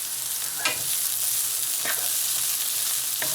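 Jalapeno peppers sauteing in a pan make a loud, steady sizzle, with three distinct scraping stirs spaced about a second apart, and no one talking.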